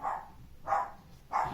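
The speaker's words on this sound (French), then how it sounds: "ça c'est la chienne de la voisine" A neighbour's female dog barks three times at a steady spacing, each a short, mid-pitched woof at moderate distance, with quiet background between barks and no talking.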